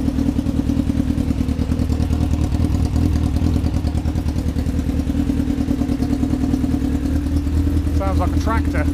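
A Honda Fireblade motorcycle with overheating issues idles roughly nearby, a loud, steady, uneven chugging that never lets up.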